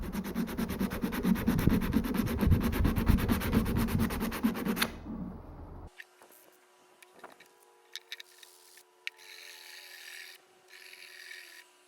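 Hand sanding of knife bevels on scrap-metal steel with 80 grit paper, fast rhythmic rasping strokes for about five seconds, then stopping to quiet handling noises and a few faint scrapes.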